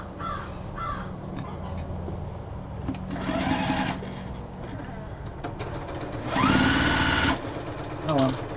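A sewing machine stitches long strips of fabric scraps being joined into yardage, running in two loud whirring bursts between quieter stretches, with a crow cawing faintly in the background.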